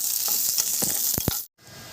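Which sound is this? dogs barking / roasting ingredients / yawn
roasting ingredients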